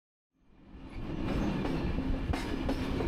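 A 40-year-old rusty Bulgarian express train rolls over worn tracks between Sofia and Burgas, heard from inside as a steady, loud rumble that swells from silence, with faint rhythmic rail clacks.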